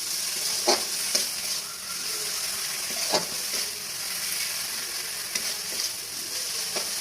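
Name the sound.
stirring food frying in a kadai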